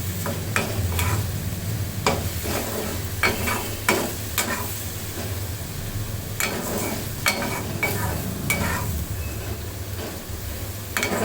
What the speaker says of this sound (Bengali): গাজরটা দেওয়ার পর আর দু মিনিট রান্না করে নিলাম